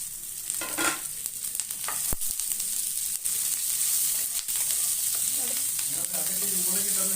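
Onion, garlic, ginger and cashews fry in hot oil in a pan for a mushroom gravy, giving a continuous bright sizzle with occasional stirring scrapes and small pops, close and steady throughout.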